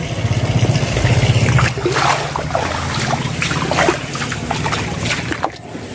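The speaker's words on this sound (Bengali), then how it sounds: "এদিক দিয়ে জল লিকেজ করছে।" Water leaks and trickles from a homemade rooftop water park, a close continuous sloshing, dribbling wash with a low pulsing hum underneath at the start.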